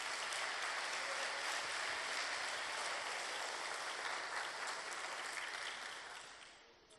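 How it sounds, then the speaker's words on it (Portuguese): Church congregation at an evangelical service clapping in praise, a dense, even wash of applause from many people that holds strong before fading away near the end. "aplauda o nome do Senhor, adore o nome dEle"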